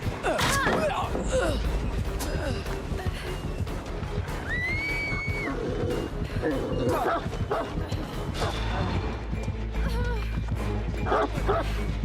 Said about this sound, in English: Can you get your dog being loud and obnoxious again?